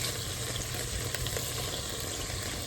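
Kung pao stir-frying over high heat in a pan at an outdoor kitchen, a steady dense sizzle with faint scrapes of stirring running unbroken and close, no voices.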